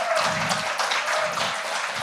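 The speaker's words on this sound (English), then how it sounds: "So everyone give them a round of applause for" A crowd applauds continuously at a live show in Harlem, New York, a dense wash of many hands clapping at steady loudness throughout.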